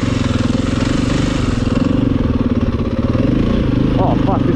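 A KTM 450 EXC enduro motorcycle engine runs loud and close with a steady pulsing thrum, briefly dipping then picking back up, while a rider's voice is heard over it.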